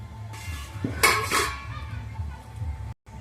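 A metal bowl and a perforated plate set down on a stove during steamed pitha cooking make a few close, bright metallic clanks and clinks over a low background hum, followed by a brief cut to silence.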